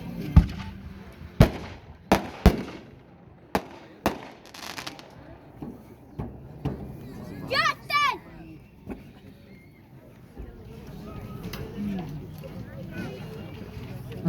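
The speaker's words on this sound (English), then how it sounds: "next we're going to shoot 2 triple break shells" Consumer firework triple break shells are launched at a demo in Aiken, South Carolina: a string of sharp booms and cracks, some close and some farther off, over people talking and children's voices.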